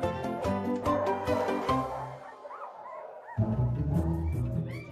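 Belgian Malinois puppies born to police dogs whimper and yip in quick repeated bursts, close by, over a dense layered background with a brief quieter gap midway.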